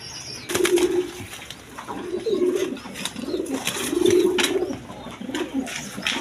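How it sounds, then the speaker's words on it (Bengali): Big Lahori pigeons, a male and female pair, give repeated low throaty coos in rolling phrases, close and fairly loud, with light rustling and faint chirps around them. "এখানে এক পেয়ার লাহোরি আছে, একদম বিগ সাইজের ইউসেফের"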